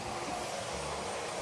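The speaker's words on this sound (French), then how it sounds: "je vais aspirer du carrelage" A Rowenta Silence Force Multi Cyclonic vacuum cleaner runs on a tile floor, giving a steady, fairly close whooshing drone with no pauses or breaks.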